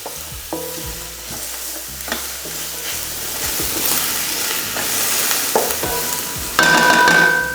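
Thinly sliced onions sizzling in a hot pan while being stirred, with scraping knocks from a utensil and a louder hiss near the end.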